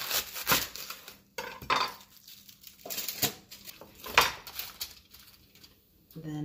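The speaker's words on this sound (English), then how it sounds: "we're going to cut this cabbage into" A knife slicing a head of cabbage into slices on a cutting board, several crisp chopping strokes in an uneven rhythm, close and fairly clear with a brief voice at the end.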